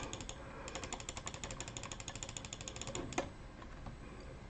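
Rapid, steady clicking of keys on a numeric keypad, a quick regular rhythm of crisp mechanical taps at close range, fairly quiet, ending in one sharper clack before the keystrokes stop.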